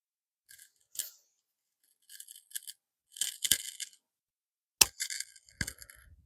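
Pruning shears snipping muscadine vines in short crisp cuts, several separate snips and a quick double clip near the end, close and clear over near silence.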